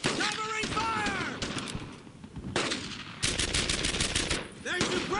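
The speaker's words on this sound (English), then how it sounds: "Covering fire!" Sustained covering gunfire from the WWII shooter Brothers In Arms: Earned In Blood: rapid machine-gun and rifle bursts, loud and close, overlapping with shouted voices and battlefield clatter.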